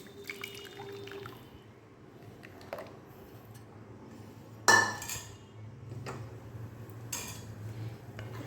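Thick mango pulp stirred in a wok, with scattered metallic clinks and scrapes of a utensil against the pan and one sharp louder knock, over a low steady background hum.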